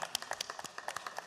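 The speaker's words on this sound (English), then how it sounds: "Please give them a round of applause and a hearty welcome." A small group in a State House chamber gives a short round of applause, with quick, uneven claps spread across the room, fairly close and moderately loud, and no talking.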